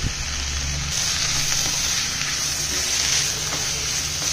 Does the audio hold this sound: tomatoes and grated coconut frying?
yes